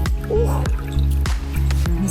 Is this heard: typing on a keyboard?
no